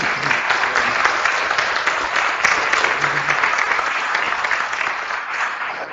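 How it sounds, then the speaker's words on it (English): Sustained applause from an audience at a talk, a dense, steady wash of clapping filling the whole stretch with no speech over it. "I think everybody should give him a round of applause."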